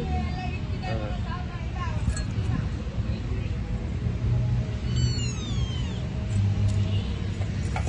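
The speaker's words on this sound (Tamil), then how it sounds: "என்ன பூனை குட்டி?" A kitten meows a few times, thin and high, while people talk close by over a low, constant background rumble of traffic.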